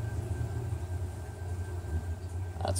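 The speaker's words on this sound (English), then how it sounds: "that is the sound of the trees outside my house blowing around in the wind and the" Trees outside a house thrashing in storm wind and rain, heard as a loud, steady rushing roar with a deep low rumble throughout and a brief brighter gust near the end, no voices.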